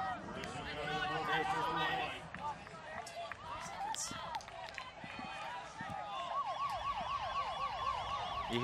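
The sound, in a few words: siren marking end of game clock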